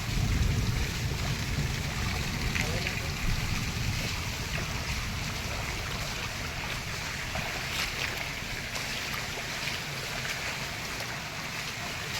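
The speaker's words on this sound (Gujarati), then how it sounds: "આખી બજારું ભરીને પાણી જાય છે" Heavy afternoon rainwater rushes through the village market street in Samadhiyala, a steady, loud, close wash of flowing water with no pauses and no voices.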